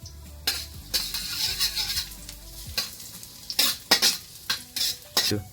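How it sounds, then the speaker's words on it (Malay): Garlic frying in oil until golden, a soft hiss of sizzling broken by repeated sharp scrapes and clacks of a spatula stirring in the pan, louder toward the end, with no talking. "Saya akan tumis dulu bawang putih sehingga kekuningan."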